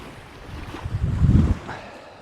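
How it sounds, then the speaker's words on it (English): Strong wind gusts across the microphone on a beach by the Solent, a loud rushing buffet that swells and fades over a couple of seconds, with no one talking. "That wind's picked up. It's blown an absolute hoolie."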